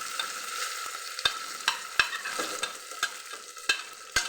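Curry leaves, green chili and onion frying in hot oil for Kerala moru curry, a steady crackling sizzle broken by regular clinks of a spoon stirring the pan, close and alone.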